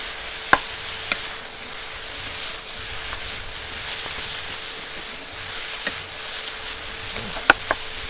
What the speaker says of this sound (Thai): ใส่กุ้งแห้งได้เลยครับ ใส่เห็ดครับ กุ้งแห้งใส่เห็ด แล้วก็ผัดให้เข้ากันนะครับ